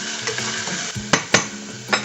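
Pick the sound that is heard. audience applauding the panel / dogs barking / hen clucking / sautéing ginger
sautéing ginger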